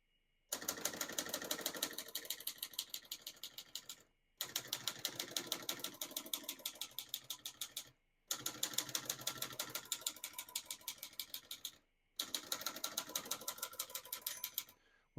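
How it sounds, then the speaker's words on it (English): Fast bursts of typing on a 1963 Olivetti Lettera 22 portable typewriter, four runs of crisp, steady key strikes separated by short pauses, close and clear with no talking. "all the keys type nice and none of them skip or stick"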